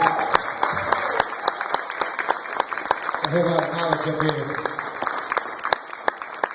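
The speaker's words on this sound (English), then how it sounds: "can y'all do that one more time with the clapping?" Applause and clapping from an audience at a hip hop panel, with sharp individual claps standing out over the crowd noise and someone speaking over it partway through.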